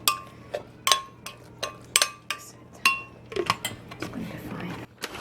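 Spoon mixing lentil walnut spread in a bowl, a series of separate clinks and taps against the dish, sharp and near, spaced irregularly with a softer scrape near the end.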